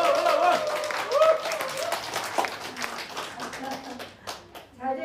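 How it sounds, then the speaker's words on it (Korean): A crowd at a political party rally applauds as a speaker is welcomed. The clapping is dense and lively, with a voice calling out over it. It thins toward the end, leaving scattered claps and bursts of cheering. "큰 박수 보내주시기 바랍니다"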